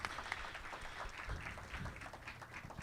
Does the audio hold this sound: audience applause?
yes